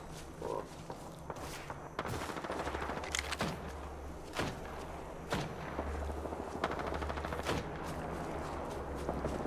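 Nearby gunfire from a fight in Apex Legends: repeated sharp shots and bursts of automatic fire at irregular intervals, fairly close, over a steady low ambient rumble.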